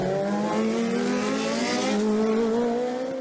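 A Lola Hart race car with a Hart 415T 1.5-litre turbocharged engine, a loud, near, high-pitched engine wail whose tone climbs steadily throughout at a motorsport festival.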